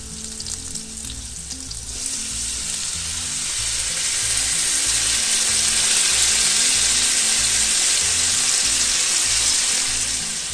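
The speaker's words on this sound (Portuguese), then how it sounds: "Calabresa frita, agora vamos acrescentar uma cebola grande picadinha." Chopped large onion hits a pan of fried calabresa sausage and sizzles loudly, a dense, continuous hiss that swells and stays strong for several seconds, with occasional stirring and no voices.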